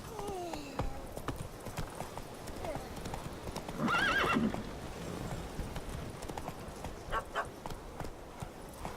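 Roach the horse in The Witcher 3 video game gallops with a continuous rapid clip-clop of hooves, a loud neigh rising in the middle, and faint game sounds underneath.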